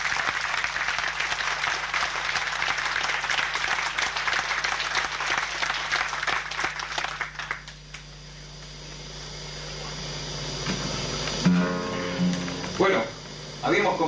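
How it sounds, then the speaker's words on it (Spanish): A tango evening audience bursts into dense, loud clapping that lasts about eight seconds and then fades, followed by a quieter stretch and a few scattered claps and knocks. "por el cual pido un fuerte aplauso para Luisito."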